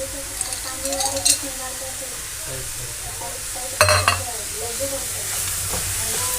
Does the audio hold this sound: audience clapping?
no